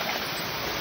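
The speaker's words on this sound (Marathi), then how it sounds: "तुम्हाला धबधबा लावतो." Water rushes in a steady, dense roar from a waterfall near a temple in the rainy season, loud and continuous over the whole moment, with no voices.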